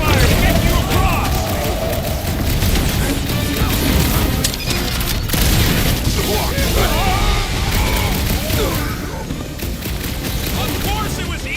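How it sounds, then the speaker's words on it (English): Cover fire rattles in Marvel's Guardians of the Galaxy video game as loud, dense bursts of gunfire mixed with crashes and booms. Game music and voices play over the shooting. "I'll lay down some cover fire to get you across."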